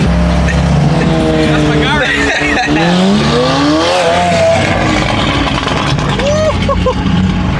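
Sports cars rev and accelerate loudly at a car meet, several engines rising and falling in pitch with some tire squeal, while someone talks close over the noise.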